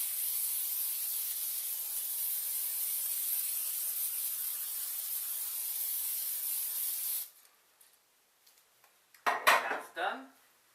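A steady, hissing aerosol cooking spray coats a muffin pan for about seven seconds, then stops; a few light metallic clinks and a short scrape of the pan follow.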